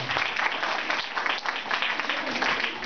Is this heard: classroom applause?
yes